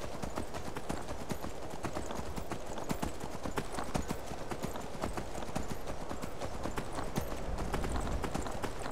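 The horse Midnight being ridden in the video game Skyrim, with steady rapid clip-clop hoofbeats in a continuous rhythm at moderate loudness.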